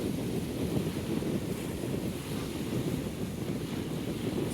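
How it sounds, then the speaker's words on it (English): Steady wind buffets the microphone over broad, continuous wave wash on a choppy river at a water sports park, loud and unbroken with no voices. "The waves are pretty intense today for the river. The wind is good."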